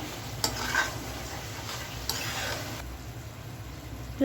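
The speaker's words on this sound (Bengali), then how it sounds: "শাপলাটা হচ্ছে ভালো করে নেড়ে চেড়ে দিচ্ছি" Water lily stems coated in flour, cooked for a shrimp dish, are stirred in a hot pan. A constant close hiss of frying runs under a couple of sharper scraping strokes, and no one speaks.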